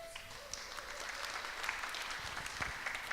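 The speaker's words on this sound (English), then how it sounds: "Stand up, Andy, let's give you a clap." A church congregation in Croydon claps for a newly commissioned youth worker. The applause is steady and moderately loud and holds at an even level, with a faint tone at the start.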